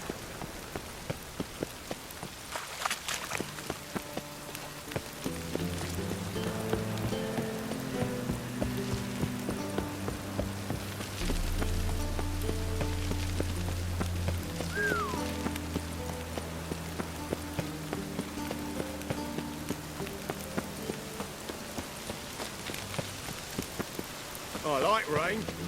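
Steady rain pattering on surfaces in The Witcher 3 Wild Hunt, a continuous wash of drops running the whole length beneath game music, with no one talking.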